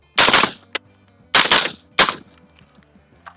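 Rifle fired three times in close succession on a range, sharp loud cracks about three-quarters of a second apart, each followed by a short decay and faint mechanical clicks between shots.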